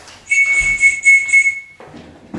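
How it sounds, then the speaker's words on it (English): A handheld whistle blown as a safety recall signal to send rescue cats into their carriers: five short, shrill, evenly spaced blasts close by, followed by a moment of quiet room noise. "every cat is trained to go to a carrier at the sound of a whistle"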